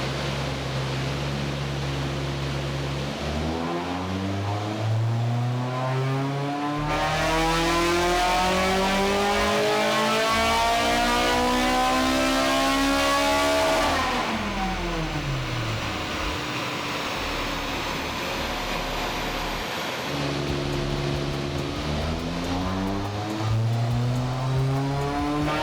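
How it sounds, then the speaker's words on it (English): A Honda Integra DC5 engine revs on a dyno, climbing through repeated sweeping pulls, dropping back, then winding up again with a loud, close, rising howl across several runs. "Obviously the car's on the dyno and Romain's about to get started."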